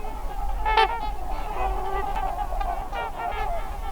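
Swans give loud honking calls, a few nasal, trumpeting honks repeated over a low background rumble.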